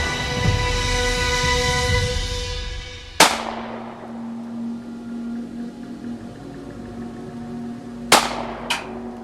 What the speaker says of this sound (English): load, lock and load, aim and commence fire